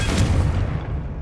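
Casting the Confringo spell in Hogwarts Legacy sets off a single loud, booming explosion that fades quickly over about a second.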